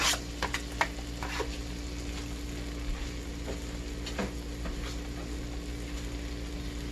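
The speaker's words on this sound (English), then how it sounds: "I chopped up about 1/2 of a purple onion. Just adding that to my avocado oil." Chopped purple onion frying in avocado oil in a wok, a constant loud sizzle with a few sharp clinks and scrapes early on, close up and without speech.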